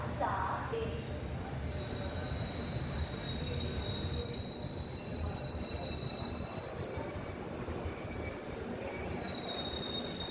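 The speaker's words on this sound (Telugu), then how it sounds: "Train number 22871 Bhubaneswar new to Tirupati weekly superfast express." The Bhubaneswar–Tirupati weekly superfast express moves through Rajahmundry railway station, a steady rumble of wheels on rails with high, sustained wheel squeal running throughout, heard from somewhat afar.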